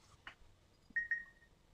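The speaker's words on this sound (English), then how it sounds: "I'm hearing numbers, man. Or dings on your phone." Two short electronic notification dings from a mobile phone, the second following closely after the first, fairly faint and clear, with a quiet soft tap just before them.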